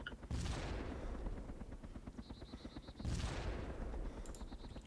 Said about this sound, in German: er schießt auf mich.